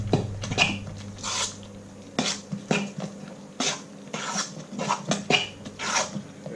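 Walnuts and batter being gently folded together for a carrot cake, giving soft repeated scraping and rasping strokes in short bursts, close and moderately loud, with a low steady hum underneath and no talking.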